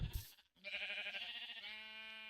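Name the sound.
sheep bleating in video game Minecraft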